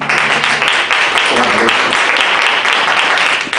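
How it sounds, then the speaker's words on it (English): Church congregation clapping for a minister during a Sunday service, a dense, steady wash of applause filling the room at constant loudness, with faint voices mixed underneath. "let's give Robert Devin a hand clap"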